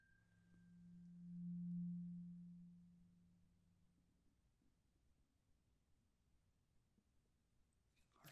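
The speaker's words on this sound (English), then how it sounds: "So I am just going to hit the fork here. It's going to make a sound." A struck tuning fork gives a steady pure hum that swells over about a second and then fades slowly in a quiet room, followed by a brief click at the end.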